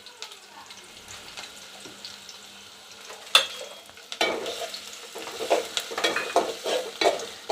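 Half a cup of onion frying and being stirred in a pan of oil with cardamom for restaurant-style chicken soup, a soft sizzle that swells after ingredients drop in, with intermittent scraping and stirring bursts.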